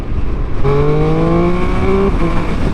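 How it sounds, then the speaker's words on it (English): A Triumph Speed Triple 1200 RS motorcycle engine revs up and climbs steadily in pitch, holding a loud, rising tone for about a second and a half before easing off, with no talking. "the engine itself, obviously the sound is very different"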